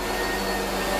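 An old Oreck vacuum cleaner running in a trailer park, a loud steady broadband whine and roar filling the whole moment with no break.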